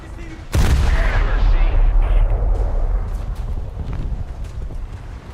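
Warship guns fire in a naval battle video game: one sudden, loud, heavy blast followed by a long rumbling decay, with a voice talking faintly underneath.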